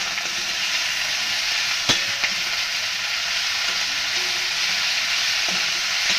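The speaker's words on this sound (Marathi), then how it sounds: "हे सुद्धा चांगलं तेलामध्ये फ्राय करून घ्यायचं आहे" Ginger and coriander fry in hot oil for a Maharashtrian katachi amti masala, giving a steady, close sizzle throughout with a few soft stirring clicks and no talking.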